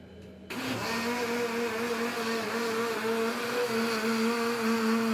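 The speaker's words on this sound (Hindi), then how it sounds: "आप मेरी मशीन का कमाल चेक करना, ऐसी आवाज आएगी कि आप डर के भाग जाओगे।" Electric juicer machine running while making juice at home: after a quiet start, a loud, steady motor whine and whir kicks in and continues evenly to the end.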